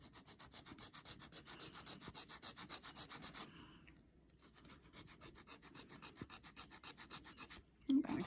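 A file rubbing back and forth across a builder gel nail to shape it into a coffin tip, rapid even rasping strokes up close, pausing briefly midway before resuming, with no voices.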